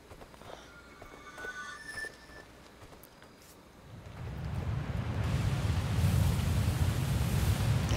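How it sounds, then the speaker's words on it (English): A river in the video game Superbrothers: Sword & Sworcery EP rushes as a broad, steady wash of flowing water that swells louder midway and holds, with no talk over it. "I like the locational sound of this river."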